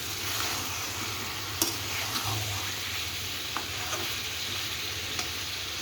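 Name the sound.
potatoes and mutton curry sizzling while being stirred in a pot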